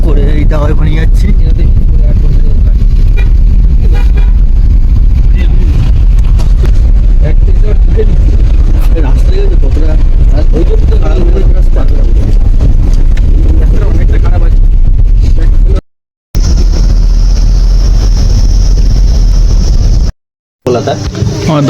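Car being driven along a rough, potholed rural road on the way from Darjeeling to Dawaipani, with a loud, continuous engine and road rumble and wind buffeting, voices talking over it, and two brief dropouts near the end.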